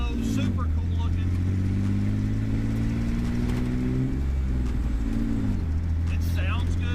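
A 1953 Chevy 3100 custom truck with a straight-pipe six-cylinder engine runs and revs steadily close by, its deep, throaty drone rising and falling through the whole stretch while a person talks over it.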